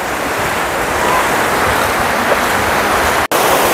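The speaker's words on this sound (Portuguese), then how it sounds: "Maravilhoso esse mar," Sea surf breaking at Pitangueiras beach in Guarujá, a steady loud wash of waves with wind across the microphone and a brief dropout near the end.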